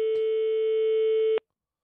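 A telephone rings out on a call to a restaurant, one long steady electronic ring tone lasting over a second before cutting off abruptly, loud and alone with no voices.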